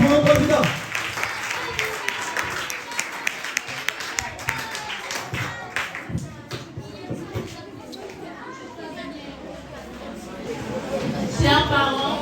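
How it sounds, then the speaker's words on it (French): A school spelling-contest audience applauds a candidate with a burst of clapping and cheering from a crowd that includes children, and chatter carries on as the clapping fades. "Est-ce qu'on va applaudir pour le candidat?"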